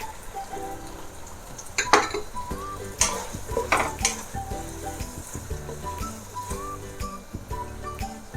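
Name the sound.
carrots being stir-fried in a pan with chicken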